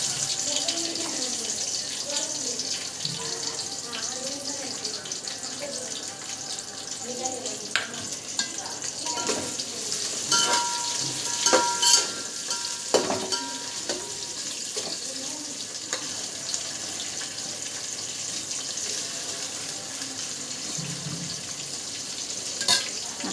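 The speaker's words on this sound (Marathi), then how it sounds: "आता आपण कांदा टाकू." Sliced onion frying in a pan for chicken biryani, a steady close sizzle running throughout with occasional stirring scrapes and brief clinks, no voice.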